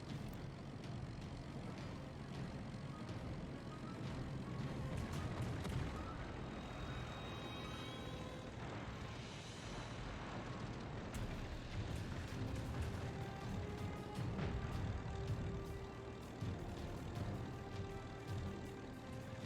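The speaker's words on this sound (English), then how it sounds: "these are the dive bombers again, right?" Propeller aircraft engines of dive bombers in a video game drone steadily and loudly throughout, a dense, continuous roar with rumbling low end and no pauses.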